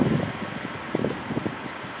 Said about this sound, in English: That's air conditioner, right?